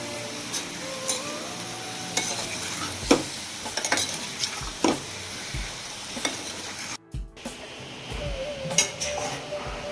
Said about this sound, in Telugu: సాల్ట్ బాగా కలుపు తిరగమాతలో అంతా కలిసిపోయేలాగా తిప్పుదామండి